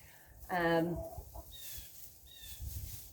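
Backyard hens clucking nearby, one loud harmonic squawk followed by softer chirps and clucks, with quiet ambient noise.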